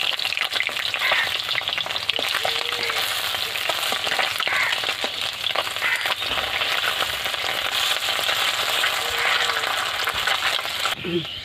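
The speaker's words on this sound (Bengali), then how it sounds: "অল্প অল্প করে মাছগুলো এইভাবে আমি সবগুলো ভেজে নেব" Small mourola fish fry in hot oil with a loud, steady, close sizzle and crackle that runs unbroken throughout, with no one talking.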